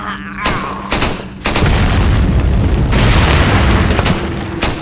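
Dynamite blowing up in Resident Evil 4: a gunshot crack, then a loud sustained booming explosion with a long rumbling tail, preceded by a few sharper shot-like pops.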